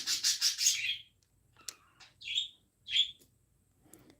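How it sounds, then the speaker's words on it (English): A pet bird gives a few short, bright chirps spaced over a few seconds, after a burst of close rubbing and scratching noise at the start. "My bird's got something to say, that's for sure."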